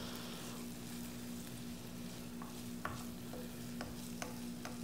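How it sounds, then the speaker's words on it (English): Corned beef hash with grated potatoes and onions being stirred and mashed in a pan, a steady frying sizzle underneath with a few soft utensil scrapes and taps coming through near the end. "Make sure every piece of corned beef is mixed and mashed with the grated potatoes and onions."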